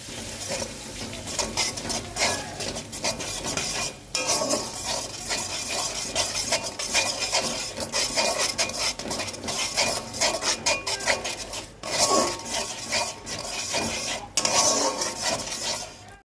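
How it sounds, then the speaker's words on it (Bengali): Sour yogurt being stirred into mutton and katla fish kalia, with a spoon repeatedly scraping and clinking against the metal pot in a steady, close, busy rhythm and no talking. "টক দইটা মেশানো হয়ে গেছে, তাই গ্যাসের ফ্লেমটা একটু বাড়িয়ে নেব।"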